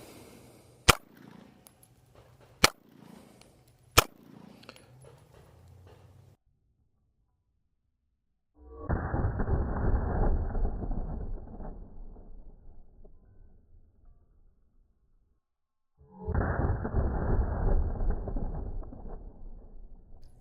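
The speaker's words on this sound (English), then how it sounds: "These are going to be the very first shots out of this gun." Three sharp, loud gunshots ring out from a Canik Prime Radian pistol, its very first rounds fired, spaced a second or two apart. Long stretches of broad rushing noise follow later.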